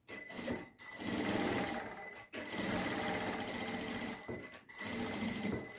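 Sewing machine stitching fabric with a backstitch, three bursts of fast whirring stitches separated by short pauses as direction changes, close and steady, no voices.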